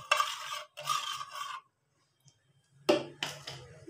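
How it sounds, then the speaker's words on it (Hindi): Spoon stirring salt into water in a bowl swishes and scrapes in several close, brisk strokes, separated by a short quiet pause. "इसको अच्छे से मिक्स कर लेंगे पानी में।"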